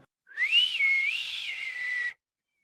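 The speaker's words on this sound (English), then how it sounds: "Whistles." One steady whistle about two seconds long, wavering gently in pitch, with no other sound around it.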